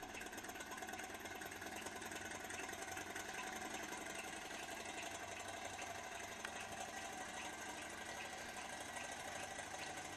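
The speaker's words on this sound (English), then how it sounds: "Now, the fact that it's called a thermo-acoustic engine" A small model thermo-acoustic engine, with a thin wire running to a flat crank and a small piston, runs with a steady, continuous whirring hum and fine mechanical rattle at constant loudness throughout, with no voices.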